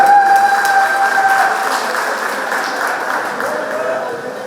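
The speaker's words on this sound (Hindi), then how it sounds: "इनके लिए भी जोरदार तालियां।" Audience applause at an association's annual general meeting as a newly elected treasurer is welcomed on stage, a strong wash of clapping that gradually eases, with a voice and a tonal whine briefly over it.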